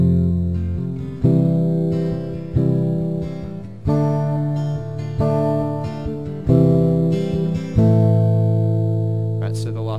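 Strummed guitar chords, each chord struck and left to ring in a steady, unhurried sequence of about eight changes, close and clear with no voices.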